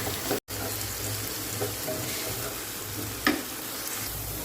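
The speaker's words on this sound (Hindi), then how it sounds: "तो हाई फ्लेम में प्याज को अच्छी तरीके से भून लेते हैं" Onions frying in a pan over a high flame, a steady broadband sizzle continuing close up with a brief break and an occasional stir or clink.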